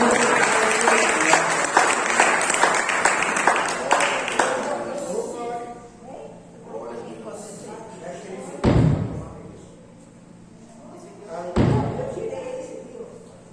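Church congregation applauding at a Santa Ceia worship service as the pastor is welcomed, dense clapping for about five seconds that fades, followed by two loud thumps and spoken voices.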